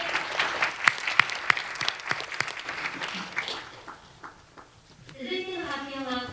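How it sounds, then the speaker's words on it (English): An audience at a children's peace summit applauds after a speech, sharp claps fading out over several seconds before a voice begins speaking. "Please give her a big round of applause once again."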